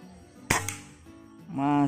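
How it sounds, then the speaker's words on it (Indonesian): A Killua 160cc air rifle, a 2021 model, fires one close, sharp shot followed by a short clatter. The shot is followed by low hum, and then a voice speaks. "Tembakan kelima."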